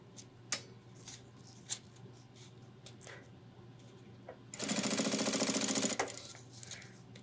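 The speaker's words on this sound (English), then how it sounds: "Put this down, start stitching." A sewing machine stitches backpack fabric in a single burst of about a second and a half, steady, fast and close, after a few quiet handling taps and rustles.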